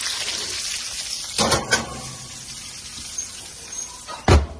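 Surf and turf pieces sizzle in a pan after being flipped, a moderate hiss with several louder scraping and clattering bursts from the turning, the last one sharp and close; no talking.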